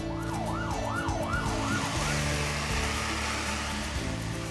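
A fire truck's wailing siren sweeps up and down several times during a factory fire drill, sounding loud over heavy rumbling engine and background noise before the wail fades into a steady roar.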